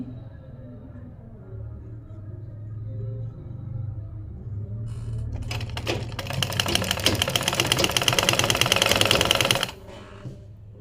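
A sewing machine stitching a decorative design into a kameez neckline starts after a quiet hum, running in a fast, loud, rapid clatter for several seconds before stopping abruptly.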